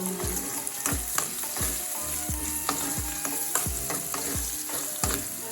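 Green chillies fry in hot oil with a steady close sizzle, broken by repeated sharp knocks and scrapes of a spoon stirring the pan.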